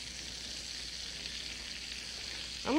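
Hamburgers sizzle and fry in a no-stick pan, a steady crackling hiss that holds evenly, ending with a brief scrape or stir as the pan is handled.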